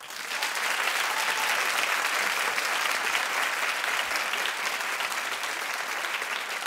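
A daytime talk show studio audience claps in a dense, even wave of applause that holds at a steady level throughout, with no voices over it.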